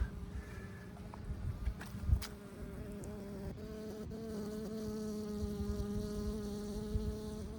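A honey bee buzzes near the entrance of a hive in a bee yard readied for winter, making a steady, close drone that persists throughout with slight swells, and no one speaks.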